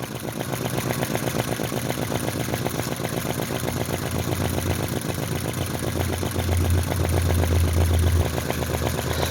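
A small model V-twin engine runs close by with a rapid, even stream of sharp valve pops over a steady buzzing drone, which grows slightly louder and deeper toward the end.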